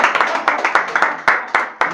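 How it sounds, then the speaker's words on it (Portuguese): A crowd at a Brazilian rap battle claps for an MC with sharp, uneven rhythmic claps and a brisk rattle of hands close by, a few strong accented hits standing out. "Aplausos para o nego!"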